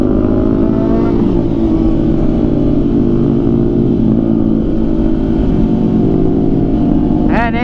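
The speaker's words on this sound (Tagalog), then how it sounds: "Napakaingay ng paligid ko. Puro big bike nasa paligid ko." 1000cc big bike motorcycles on a group ride alongside a Ninja 500SE, a loud continuous engine roar and rumble close by, with a sharp rising rev right at the end.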